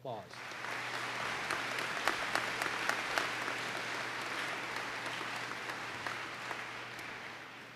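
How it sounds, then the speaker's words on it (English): A convocation audience at the University of Wisconsin-Stevens Point applauds the university band, steady full-room clapping that holds evenly throughout at a moderate distance. "Let's give them another round of applause."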